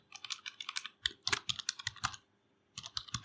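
Rapid keystrokes on a computer keyboard while writing Flutter code, a close, busy run of clicks that breaks briefly for a pause before resuming.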